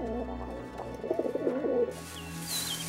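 Pigeons coo in a low, warbling series of soft calls, close and clear, followed by a brighter noisy rustle and a faint chirp toward the end.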